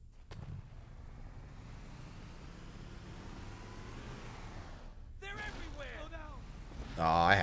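Vehicle driving in the Halo: Combat Evolved Anniversary video game, a steady low engine rumble running throughout, then sharper game effects and a louder burst near the end, with voices speaking over it.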